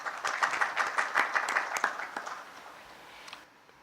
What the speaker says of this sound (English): give a round of applause to the management